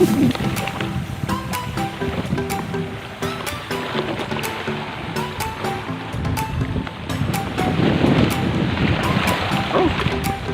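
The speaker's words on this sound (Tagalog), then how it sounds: "Malakas ang alon" Strong ocean waves surge and crash without pause, a loud, rough wash of water mixed with wind noise and the rumble of a boat, while fishing at sea.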